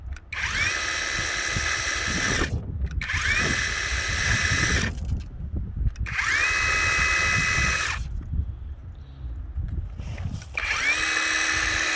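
A Worx WG630E brushless 20V cordless Hydroshot pressure washer runs in loud, close whining bursts of about two to three seconds, separated by short pauses, its motor tone straining and rising as it struggles to draw water.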